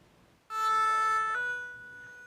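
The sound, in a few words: ambulance siren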